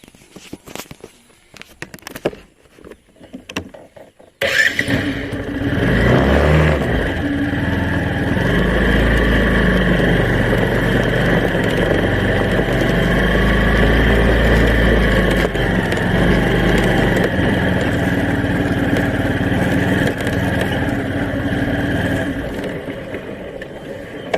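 A car engine starts after a few scattered knocks, then runs as a steady loud rumble that holds close by for most of the stretch and fades slightly near the end.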